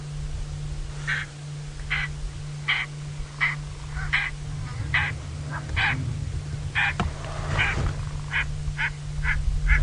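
A series of short, rough, croaking roller bird calls, a played-back recording, repeats at a steady pace over a constant low hum and background noise.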